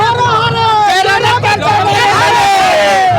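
A large crowd at a political rally in Jharkhand fills the air with a dense, steady babble of many voices, loud and continuous throughout, with faint road traffic mixed in.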